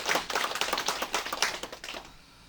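Applause from an audience at the opening of an election campaign office, a dense burst of many hands clapping that carries on steadily before thinning and fading out toward the end.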